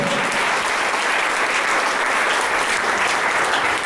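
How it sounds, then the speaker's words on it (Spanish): Steady, dense applause from a church congregation praising the Lord, broad and continuous with no voices standing out. "Den un aplauso al Señor si quieren"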